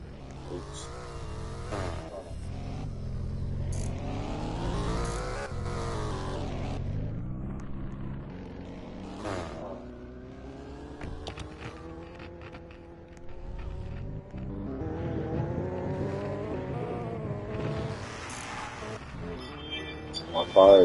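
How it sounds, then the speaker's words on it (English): Car engine in the Roblox game Fix it up, a revving, droning motor that rises and falls in pitch over about twenty seconds, with a player's voice talking over it. "Car is moving on its own."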